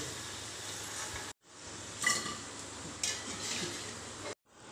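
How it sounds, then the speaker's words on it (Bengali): Hilsa fish fry pieces sizzle in a pan with a steady, moderate hiss and a couple of light utensil clinks, broken by two short silent gaps. "এরকম করে প্রত্যেকটা ভেজে নেব।"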